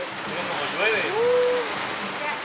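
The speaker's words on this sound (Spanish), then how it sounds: "Mira cómo llueve." Steady rain falls on surfaces on Chiloé island in Chile, a dense continuous patter close by with no voices, filling the whole stretch evenly.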